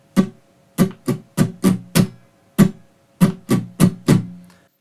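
Steel-string acoustic guitar strummed in a steady pattern, eleven sharp chord strokes in a steady, slightly syncopated rhythm with brief gaps, close and fairly loud with no voices.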